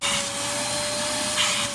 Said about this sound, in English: there's a bunch of debris in there, so I'm gonna vacuum that